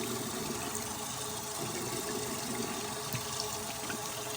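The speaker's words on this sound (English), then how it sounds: "let's rinse this to see how good it is" Water rinsing a Bulbhead Ruby HorsePower scrubber: a steady, soft broadband splash and hiss of running water that holds at an even level throughout with no talking.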